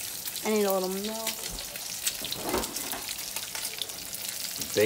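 Bacon frying in a pan on a home stove, a steady crackling sizzle with a brief spoken voice near the start and some clinks of stirring.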